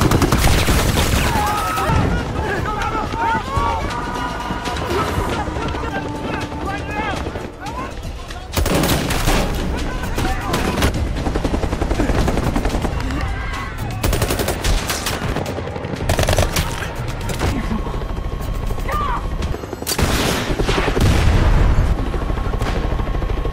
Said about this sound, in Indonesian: Dari kejauhan, terdengar dentuman senapan.